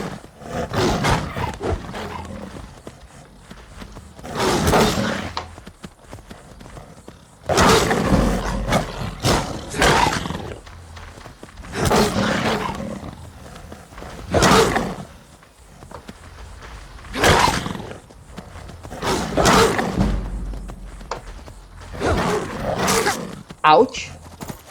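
A saber cat in Skyrim roars and snarls repeatedly while attacking, loud bursts of growling spaced a few seconds apart, mixed with hoofbeats and combat noise.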